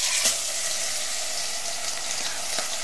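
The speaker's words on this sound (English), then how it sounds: "when we put it in, it's going to sizzle" Beef shank sizzles loudly in hot oil in a Dutch oven, a dense, continuous close crackle with small pops throughout.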